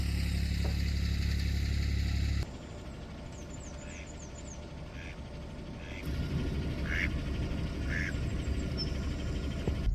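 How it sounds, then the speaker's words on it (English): A duck quacks in short bursts at moderate distance over a steady low engine-like drone, with occasional bird chirps above. "that duck has just been hanging out in the same spot"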